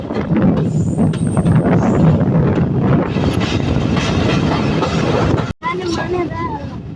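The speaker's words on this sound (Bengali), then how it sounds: "এই ট্রেনটি কিন্তু ঘন্টায় মাত্র ষোলো কিলোমিটার স্পিডে চলাচল করে" A train rumbles slowly along the rails at about 16 km/h, with a low, continuous roar and buffeting wind noise, ending with a brief dropout and fainter sounds.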